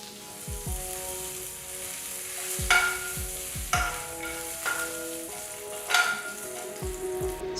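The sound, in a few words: mustard seeds, red chilies and curry leaves splattering in hot oil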